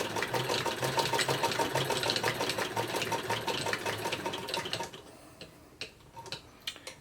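A Singer 99K sewing machine stitches a seam with a steady, rapid mechanical ticking for about five seconds, then slows to a few scattered clicks and taps as it stops.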